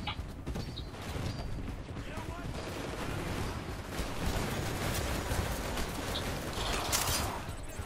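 Dense, continuous rapid gunfire from Titanfall, Attrition mode on Outpost 207, with bursts layered over constant background noise and occasional louder shots.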